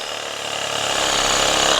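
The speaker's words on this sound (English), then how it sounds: "we've got a reciprocating saw, yeah, with a longish blade on. So that'll reach down to right at the bottom of the pot." Reciprocating saw fitted with a long blade cutting down into a large bonsai pot during repotting of a big Shishigashira Japanese maple; a steady, loud buzzing drone that builds slightly in intensity, heard alone.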